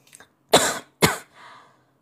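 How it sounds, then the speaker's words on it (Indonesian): Two sharp, close coughs in quick succession, followed by a soft throat-clearing breath. "Kok batuk ya?"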